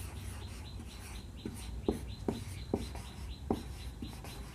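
Chalk or marker strokes on a board in a chemistry class, a short series of soft scratchy taps and squeaks spaced about half a second apart, close and clear over room hiss.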